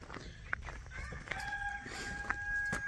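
Meat chickens cluck and crow on a farm, a few sharp calls and a drawn-out crowing tone over steady low background noise, moderately close.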